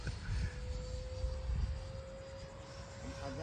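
Freewing MiG-29 radio-controlled model jets fly overhead at half throttle, a steady, sustained whine of ducted-fan engines with a thin continuous tone, moderately distant and continuous throughout.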